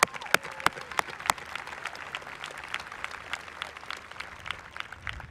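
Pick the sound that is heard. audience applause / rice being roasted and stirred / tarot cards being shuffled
audience applause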